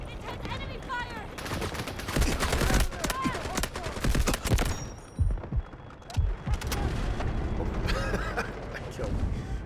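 Intense enemy gunfire in the game Delta Force, dense overlapping bursts of machine-gun and rifle fire rattling continuously with sharp shots and some mechanical clatter, loud and close, with voices talking over parts of it.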